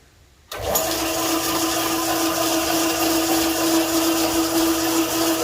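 A South Bend lathe whirs up abruptly after a moment of quiet, then runs at a steady, loud mechanical hum with a faint rattling whine of its chain sprocket drive.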